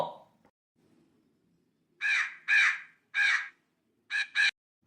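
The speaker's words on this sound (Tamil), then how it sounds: "சூ சூ காக்கா போ." Five harsh caws from a nearby crow, the last two in quick succession, after a brief bit of voice and quiet at the start.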